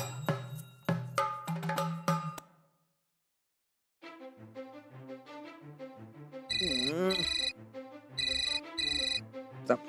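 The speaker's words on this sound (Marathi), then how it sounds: "फोन सकाळ सकाळी" A mobile phone ringtone plays as a melodic electronic tune, loud and close, with repeated ringing bursts after a short silence.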